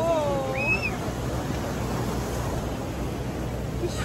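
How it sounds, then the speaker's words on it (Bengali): Strong sea waves and a fast water current wash up the beach at Digha during the monsoon, a constant loud roar of surf and wind with a faint whistle near the start. "প্রচন্ড জলের স্রোত, একদম ঢেউ পুরো একদম পা অব্দি চলে আসছে"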